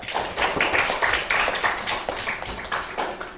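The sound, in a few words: applause for a student named Meca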